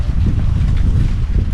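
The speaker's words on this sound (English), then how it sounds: "Man, that wind's getting up." Gusty outdoor wind buffets the microphone in a steady, loud low rumble with no break, heard during an at-home spray painting job on a car.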